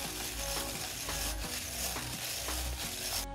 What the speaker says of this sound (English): what I found most effective was to mix it with your hand